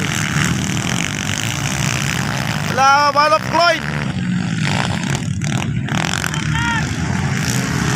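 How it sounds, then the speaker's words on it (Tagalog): Trail motorcycles racing in a motor trail competition at Barangay Paco, Kidapawan City, their engines droning steadily at a distance beneath excited spoken commentary and crowd noise. "Motor trail competition."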